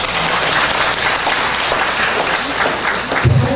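An audience at a church worship gathering breaks into sustained applause, a dense and even wash of clapping that is fairly loud and continuous, with no talk.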